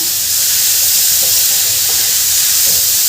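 Grated carrot sautéing in a pan over medium heat for carrot halwa, a steady close sizzle and hiss with faint stirring scrapes underneath.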